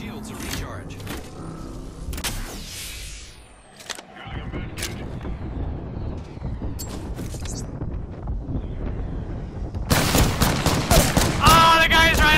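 Sniper and other gunfire crackles through a video game firefight as a sharp shot rings out near the start, followed by a denser, louder burst of shooting toward the end, with a player talking over it.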